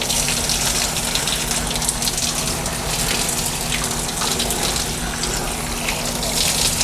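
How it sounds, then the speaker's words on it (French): Steady, close gush of water from a tap or shower head rinsing a person's hair during a bath at home, a continuous broadband rush with no pauses and no voices. "Et on va rincer abondamment les cheveux."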